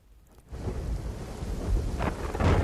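Heavy rain pours steadily in Dwarka district, a dense close roar with deep thunder rumbling underneath that builds after a quiet start and swells louder toward the end.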